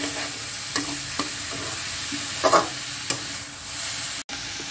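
Mixed vegetables stir-fried in sesame oil in a pan, a steady close sizzle with a few sharp scraping clicks of the spatula and one brief louder toss in the middle.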